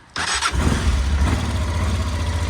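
A carbureted 1992 Honda Transalp motorcycle starts with a brief cranking burst, then settles into a steady, loud, close idle, with no talk.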